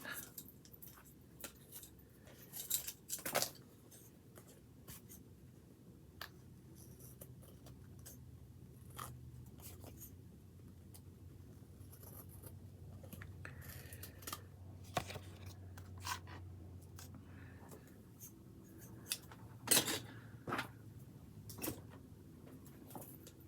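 Scissors snip paper for a craft project, a quiet series of short, crisp cuts and light rustles spread irregularly over a faint, hushed room background.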